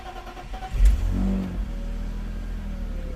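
A BMW 323i with an airflow meter fault cranks briefly and catches on a cold start, settling into a steady idle that carries on alone.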